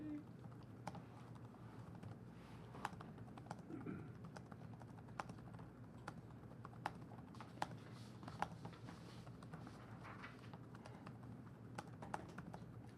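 Soft, scattered keyboard taps from someone typing on a computer at a public commission meeting, faint and distant against a steady room hum.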